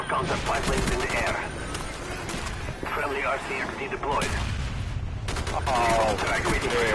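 A Commando assault rifle with an ACOG scope fires in Call of Duty Black Ops: loud, rapid bursts of gunfire in close succession, with overlapping game combat sounds throughout.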